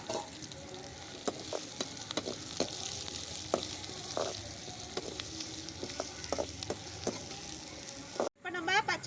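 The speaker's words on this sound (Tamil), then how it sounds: "இப்போ நம்ம இந்த வெங்காயம் வச்சிருக்கோம் இல்லையா, அதை நம்ம போட்டு வதக்கிக்கலாம்." Onions frying in oil for Gobi Manchurian, a steady close sizzle with regular spatula scrapes and taps against the pan, ending in a brief louder clatter.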